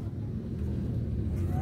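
A Lamborghini engine rumbles steadily at low pitch as the car drives, a constant, moderately loud drone with no clear gear changes over the short stretch.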